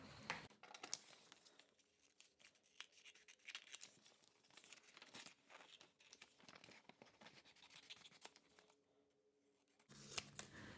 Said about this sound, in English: I'm going to cut those out for now